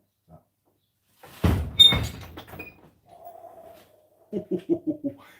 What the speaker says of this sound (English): Can you close the door for me?